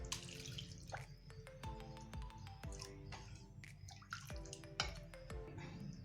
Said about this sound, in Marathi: आता यातील पाहिजे तेवढे पाणी मी यामध्ये घालून घेते